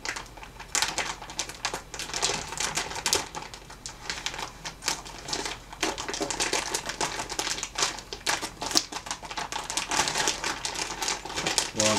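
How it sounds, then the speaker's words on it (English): Scissors cut straight across a plastic mushroom grow bag below its filter, a continuous close crinkle of plastic with rapid snips and rustles throughout, no voices. "we're going to cut it straight across, all the way around."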